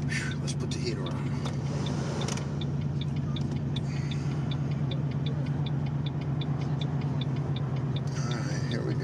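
An old Ford Mustang fitted with 4.10 gears is driven gently, giving a steady low engine drone inside the car with a regular light ticking running through most of it.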